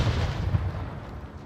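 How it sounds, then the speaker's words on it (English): A grenade bursts in a video game with a single deep boom at the start, then a rumbling tail that fades away. "Hail Mary nade."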